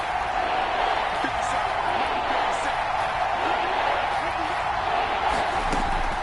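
Stadium crowd at an NFL game between the 49ers and Cardinals, a steady distant roar and murmur of spectators with faint scattered cheers, heard under a play-by-play commentator.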